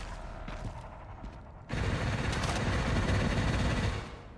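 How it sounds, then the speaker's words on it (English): Sustained machine gun fire in the game Resident Evil Requiem, a dense rapid rattle that starts abruptly after quieter scattered shots and keeps going loud and continuous for a few seconds before easing off. "Guy down there with a shotgun, well, a machine gun actually."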